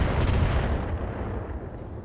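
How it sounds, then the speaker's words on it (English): Mech weapons fire in the BattleTech video game, a loud booming blast with a heavy rumbling tail that slowly decays, alone and without talk. "It's finally returning fire."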